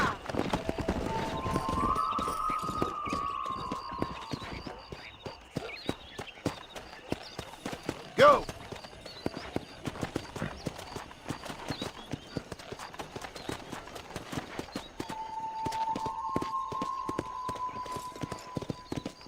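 Rapid clip-clop of galloping horse hooves in Red Dead Redemption drums steadily throughout, with a couple of neighs and whinnies rising above the rhythm.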